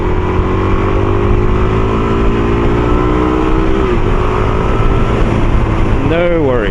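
A Suzuki DRZ400SM motorcycle engine accelerates under throttle while riding, a loud steady drone whose pitch climbs, then a quick rise and dip as a gear changes near the end, with wind rush throughout.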